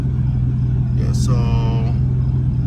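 A Ford Focus RS with an overheating fault idles with a steady low drone close by, while someone speaks briefly over the engine.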